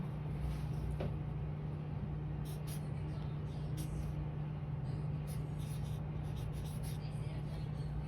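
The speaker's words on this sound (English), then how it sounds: "I'm just gonna write my name in the family name." A pen writes a name into a paper planner, its faint scratching barely rising above a steady low hum and background noise.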